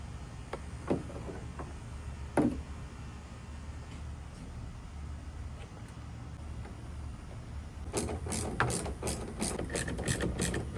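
Ratchet with an 8mm socket working on a reverse light fixture of a 2020 Ford F150, giving sparse isolated clicks early on, then a quick rapid run of close ratcheting clicks near the end.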